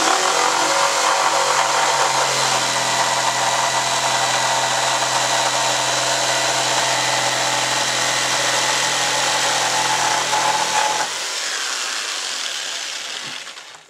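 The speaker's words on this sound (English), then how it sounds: "It doesn't take long to cut this out. This is pine" Power saw cutting out a pine board, a loud continuous whining roar held steady for several seconds, then dropping in tone as the cut finishes and the blade winds down.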